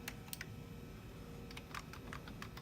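Sparse, faint keystrokes on a vintage Macintosh Plus keyboard while typing in MacWrite, scattered clicks coming in small bursts over a low steady hum.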